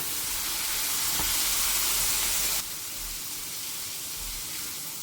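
Tomatoes fry in hot masala for a mushroom gravy, giving a steady loud sizzle that drops to a softer hiss partway through, with no voices.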